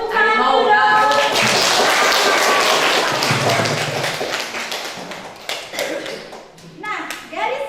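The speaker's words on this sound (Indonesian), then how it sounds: "Tepuk tangan dulu dong." A school class applauds in a burst of dense clapping that fades after a few seconds into scattered claps, with children's voices and a few thumps mixed in.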